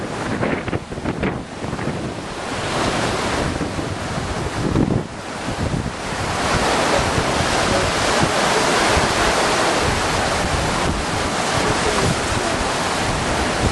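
Strong gusting wind roars across the microphone on a cruise ship deck over a constant wash of surf and waves, loud and unbroken throughout with no voices.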